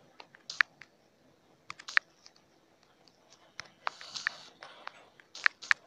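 Taps on a phone's on-screen keyboard in the video game Sarah is Missing come as crisp, close clicks in short irregular bursts with brief pauses between them.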